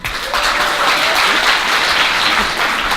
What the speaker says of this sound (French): Bonjour, Safa, vous pouvez l'applaudir